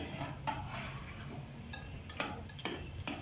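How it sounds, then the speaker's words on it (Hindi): Vegetable pakoras frying in ghee over medium heat are flipped, giving soft sizzling under a few light metallic clinks and taps of a utensil against the pan, close and fairly quiet with no talking. "तो अब हम इनकी साइडें चेंज करेंगे।"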